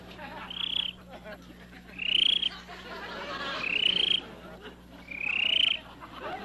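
A voice imitates a small frog croaking: four short, high, nasal croaks spaced about a second apart, fairly close and clear over a low steady background hum.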